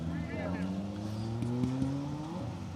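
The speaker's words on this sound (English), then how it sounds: "There's Nigel Mummery in his RS200 being chased down by, as he has been all day, that Carlos Sainz replica Repsol Escort Cosworth" Ford RS200 and a Repsol Escort Cosworth rally car in Escort WRC trim pass close by on a historic rally stage at Weston Park, engines droning and rising in pitch, with a commentator talking over them.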